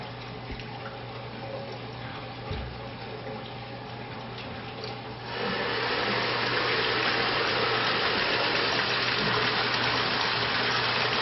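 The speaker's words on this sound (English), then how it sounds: "now we're just emptying out what's left over in the pipe" Leftover water drains out of a pipe on a thermostatic mixing valve test rig, a faint trickle with a steady low hum that abruptly turns into a loud, continuous gushing rush about halfway through.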